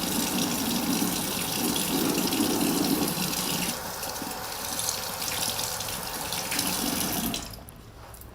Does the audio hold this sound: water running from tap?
yes